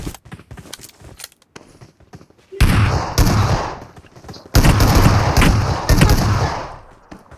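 Bursts of gunfire in a shooting video game, two long sustained volleys of rapid shots, loud and close, separated by quieter stretches of scattered clicks and taps, with no talking.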